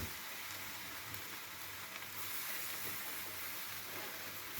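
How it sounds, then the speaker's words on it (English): Snoek fish sizzles and crackles in a hot pan, a steady frying hiss that continues without a break and with no talking. "Listen to that sizzle."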